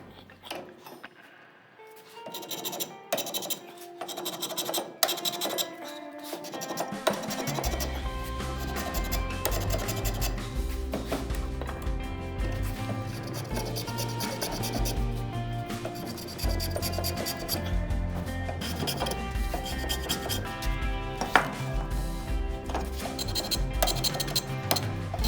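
Corners of a wooden mallet head being worked with a hand tool, producing repeated close scratching and rasping strokes that run steadily after a quieter start, under a constant droning background tone.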